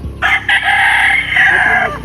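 A yellow-legged hatch gamefowl rooster crows once, loud and close, a full drawn-out call lasting about two seconds with no talk over it.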